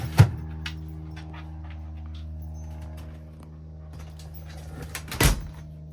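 Drawers slide and shut inside a Hymer Masterline B780 motorhome, two sharp knocks about five seconds apart with faint rattles between, over a steady low hum.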